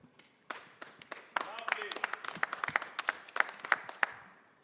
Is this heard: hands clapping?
yes